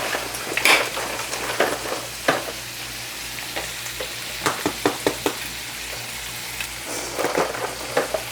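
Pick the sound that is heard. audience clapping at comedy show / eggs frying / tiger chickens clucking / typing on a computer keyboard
eggs frying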